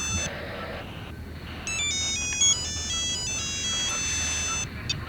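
An electronic phone ringtone plays a repeating melodic pattern of bright beeping tones, steady and clear over a low background hum.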